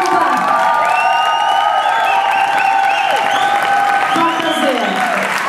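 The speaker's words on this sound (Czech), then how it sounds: "Takže ještě jednou závěrečný aplaus." A crowd applauds loudly and continuously after a cha-cha dance show at Dance For People 2014 in Ostrava, with cheers and whoops, and a host's voice calls over it.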